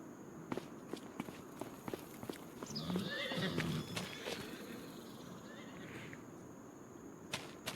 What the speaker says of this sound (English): Our horse stables have 4 horses out of 16.